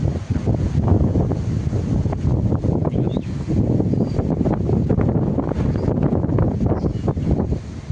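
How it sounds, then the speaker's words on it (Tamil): Strong, cold wind in Kotagiri, India, roaring and buffeting the microphone in loud gusty bursts, a continuous rumbling rush with no voices. "காற்று பயங்கரமாக அடிக்குது"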